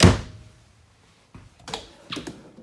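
A pet drawer under the oven in a 2020 Grand Design Solitude 344GK fifth-wheel RV kitchen shuts with one loud, close thump, followed by a few lighter knocks and rattles.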